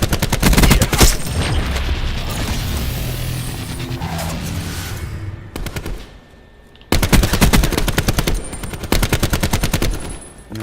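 Gunfire from the Call of Duty: Black Ops 4 video game comes as loud, rapid automatic bursts and single shots. It drops to a short near-silent pause partway through, then the firing starts up again hard.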